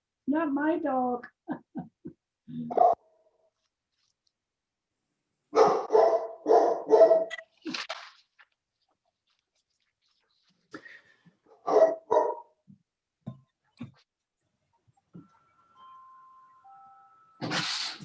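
A dog barks in quick clustered bursts, loud and close, with pauses of quiet between volleys and a few scattered later yaps.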